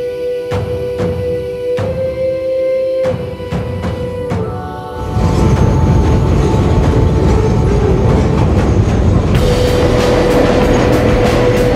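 A train rumbles past on a bridge overhead, heard from a raft on the Bighorn River in Thermopolis, Wyoming, first with sharp rhythmic clacks and tones, then swelling into a loud, sustained roar and metallic rattle close by.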